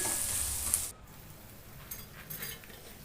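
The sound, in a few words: stirring turmeric into ginger garlic paste in a pan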